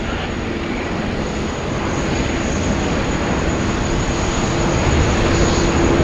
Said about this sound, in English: Short flight across the Pacific there for the Air New Zealand 787-9 Dreamliner